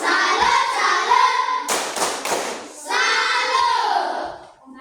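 A group performs the 'tepuk salut' salute clap, a few sharp unison hand claps rising out of the middle of loud group chanting and voices in a classroom-like setting.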